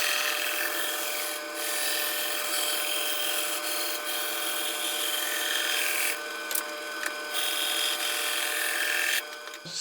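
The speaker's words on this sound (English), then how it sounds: "I'm gonna try to refine it here on the bandsaw as I cut it out" A bandsaw cutting out a wooden push stick, a continuous close whirring rasp of the blade through wood with slight shifts in tone as the piece is turned, ending with a brief change as the cut finishes.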